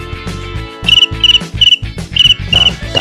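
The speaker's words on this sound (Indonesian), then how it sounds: "Nah, tapi dia mengeluarkan suara jangkrik." Repeated short cricket chirps from a button in an App Inventor app, sounding in about five bursts over a steady musical background with no talk.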